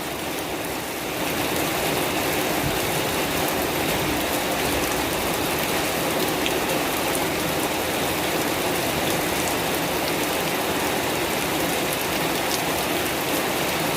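Heavy rain pours down during a storm in Chiang Mai, Thailand, a dense, steady hiss of drops on surfaces that stays loud and unbroken throughout, with no voices.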